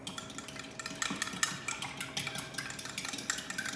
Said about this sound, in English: Now all we have to do is mix it all together.